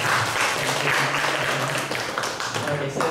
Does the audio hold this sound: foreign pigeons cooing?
no